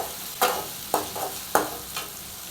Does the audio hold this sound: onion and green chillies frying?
yes